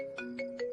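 A phone ringtone plays on an unanswered call, a steady melodic tone with three repeating swells over a sustained pitch, moderately loud and alone.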